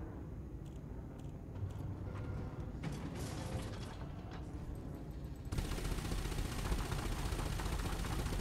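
Spaceship weapons fire in Elite Dangerous, heard as a dense, continuous stream of rapid mechanical bursts over a steady engine hum, with the firing growing louder and harsher in the final few seconds.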